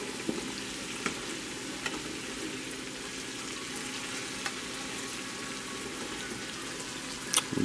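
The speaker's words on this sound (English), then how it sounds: "Beautiful sizzling in there." Steady, close sizzling of venison backstrap frying in a pan, a continuous crackling hiss with occasional louder pops and a brief clatter near the end.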